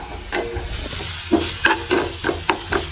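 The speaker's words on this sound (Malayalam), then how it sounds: "ഇതിങ്ങനെ വഴറ്റി കൊടുക്കണം." Masala with cashews and raisins being sautéed and stirred in a pan, a steady sizzle broken by a series of scraping stirs that grow more frequent toward the end, close and clear with no talk.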